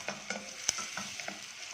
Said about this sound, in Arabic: هشوح البصله بقى ان شاء الله، تاخد لون اصفر كده حلو